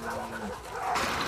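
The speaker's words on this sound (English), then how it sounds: "Hey, you crazy dog." A dog in the video game The Last of Us Part 2 gives short excited yips and whimpers close by, with a voice speaking briefly over part of it.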